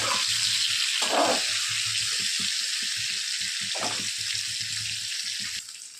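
Okra (bhindi) frying in a pan sizzles steadily and loudly for the whole stretch, a dense hiss with faint soft knocks underneath, easing slightly toward the end.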